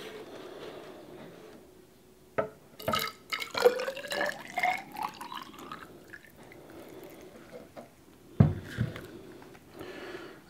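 Homemade hand sanitizer liquid poured into a measuring container, a trickle and splash of liquid with drips and a few sharp knocks of the container, close and fairly quiet, no talking.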